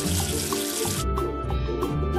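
Running water rinses soap away in a kids' education app game, making a steady splashing tap-like flow. Bright droplet plinks sound over it, and it stays loud and continuous the whole time.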